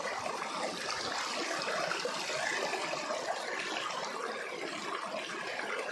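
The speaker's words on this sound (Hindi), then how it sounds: "यहाँ का पानी शुद्ध है, बहता हुआ पानी है" Flowing water at a natural site by the Khani Mahadev shrine, a steady broadband rush of a running stream heard continuously and fairly close, with no talk over it.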